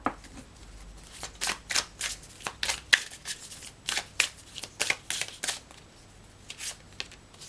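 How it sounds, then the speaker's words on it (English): A deck of Elemental Alchemist Oracle cards is shuffled by hand in close, crisp bursts of riffling flicks, a dozen or so quick shuffles in irregular rhythm with short pauses between, no speech. "let's get a card from the Elemental Alchemist Oracle"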